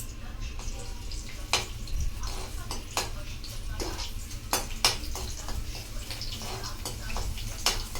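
Garlic sizzles in hot oil in a kadai, a steady low crackle with occasional sharper ticks and clinks, close by and moderately quiet.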